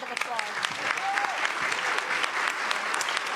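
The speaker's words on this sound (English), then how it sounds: "One more round of applause." Lecture-hall audience applauding at a distinguished lecture series, a brisk burst of claps with a voice talking over it and a few crowd murmurs.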